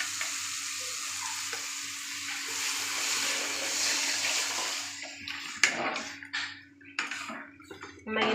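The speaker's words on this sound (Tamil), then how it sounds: "இப்போ இந்த புளி கரைச்சலை எடுத்து நம்ம ஊற்றிக்கலாம்" Tamarind water poured into a pan of softened onions and tomatoes for fish curry: a loud frying hiss gives way to splashing, bubbling liquid with a few clattering knocks, close by and without speech.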